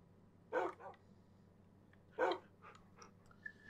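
Dogs in the video game Minecraft give two short bark bursts a couple of seconds apart, moderately loud against a quiet game background, with faint small yips after.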